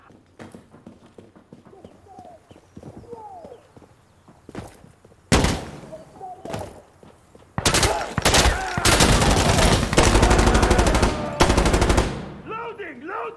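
Explosive mortar rounds firing in Insurgency Sandstorm, heard as a string of loud, sharp broadband blasts and rapid bursts, with quieter gaps and scattered lighter impacts in between.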